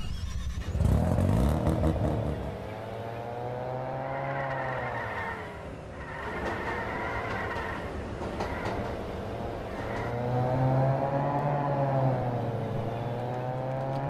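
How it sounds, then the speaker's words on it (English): The Shogun car in the Roblox game Jailbreak starts up with a loud, tonal electronic whine whose pitch dips and rises in smooth waves, sustained for about fourteen seconds with no talking. "the new Shogun has a startup sound"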